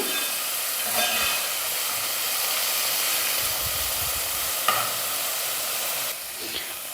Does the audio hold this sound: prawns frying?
yes